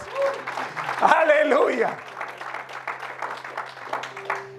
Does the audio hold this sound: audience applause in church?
yes